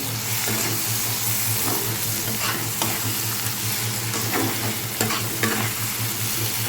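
Shrimp chorchori sizzling loudly in a pan while a spatula scrapes and stirs it in irregular strokes, close up and continuous, with no talking.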